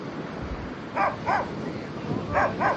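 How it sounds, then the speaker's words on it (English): A dog barks four times in two pairs, short sharp woofs at a moderate distance over a steady wash of outdoor background noise at Candolim Beach, Goa. "the dog that's barking, bless him"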